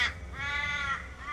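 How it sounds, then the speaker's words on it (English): Crows in a flock caw harshly, one drawn-out call after another, moderately faint with no other sound around them. "The birds were cawing, warning of unknown visitors."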